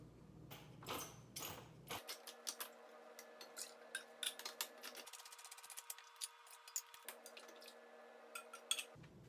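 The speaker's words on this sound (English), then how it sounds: "First we're going to open the cans of tomatoes, and we're going to put them into this pot." Cans of tomatoes being opened and emptied into a cooking pot for marinara: a run of small clicks and ticks, steady and close, over a faint constant hum, with no one talking.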